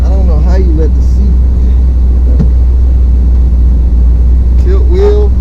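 A 1979 Chevy G20 van engine idles steadily with a low, constant rumble close by, while someone talks over it now and then.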